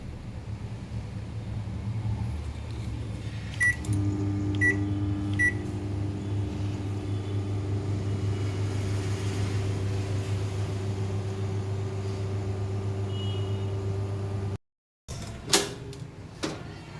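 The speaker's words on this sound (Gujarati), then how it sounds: "સૂંઠ છે આપણે એને ઓવનમાં 3 મિનિટ માટે શેકી લેશું." Microwave oven roasting dry ginger for homemade tea masala, with a steady close mechanical hum and low rumble, a few short beeps near the start, then a sudden stop and clicks at the end.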